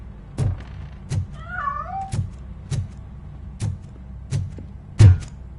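A cat in the video game Robocop Rogue City gives one short, wavering meow, set among a series of loud, evenly spaced dull thuds nearby.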